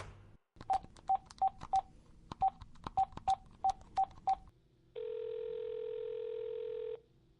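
A string of about eleven quick touch-tone beeps as a number is keyed in, then a pause and a steady ringing tone lasting a couple of seconds.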